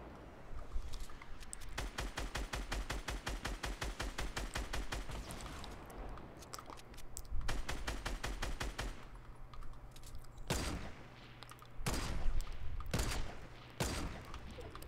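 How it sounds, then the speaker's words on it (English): Video game gunfire in long rapid automatic bursts, broken by short pauses and then several single heavy blasts near the end, fairly loud and close with no talk over it. "shoot him again. Do it again"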